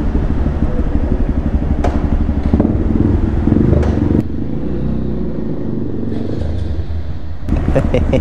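Motorcycles rev loudly and rumble nearby during wheelie practice, with throttle swells and sharp engine bursts that rise and fall over several seconds.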